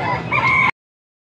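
A rooster crows once, loud and close, a short harmonic call that cuts off abruptly.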